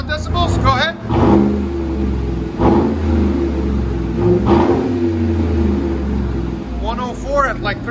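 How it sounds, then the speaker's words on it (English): A lifted 2015 Chevy Suburban LTZ with a 5.3L V8 and dual exhaust fitted with Dynomax Race Bullet mufflers revs up and settles back in a loud, close rumble, with several throttle blips across the stretch and voices talking over it. "Chevy Suburban lifted. That's what it sounds like."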